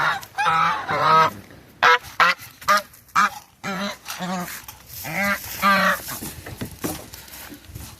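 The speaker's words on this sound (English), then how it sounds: "That goose is a nut." A goose honks repeatedly up close at feeding time among other birds, loud nasal calls in uneven bursts and pairs with short gaps between them.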